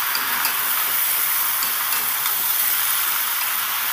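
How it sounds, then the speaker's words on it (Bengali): Vegetables with garam masala powder and chopped tomato sauté in a pan for vegetable khichdi, giving a steady, close, bright sizzle with faint stirring ticks throughout and no voices. "এবার ভালো করে আমি কষিয়ে নেব।"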